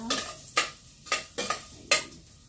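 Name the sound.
ginger sautéing in a pan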